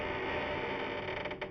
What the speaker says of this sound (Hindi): हवा की आवाज, दरवाजों की चीख, सब कुछ डरावना लग रहा था।